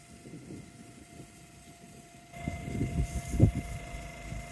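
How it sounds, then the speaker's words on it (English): A steady mechanical drone with a hiss starts partway through, growing louder with surging bursts over a low background rumble, a pressure washer cleaning a harbour slipway nearby in Teignmouth. "they're pressure washing the slipway"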